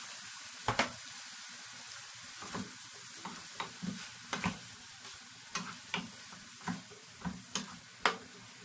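Eggplant sizzles steadily in a hot pan for ginisang talong with bagoong alamang, with a constant close frying hiss broken by a dozen or so sharp taps and scrapes of a utensil stirring, no talk.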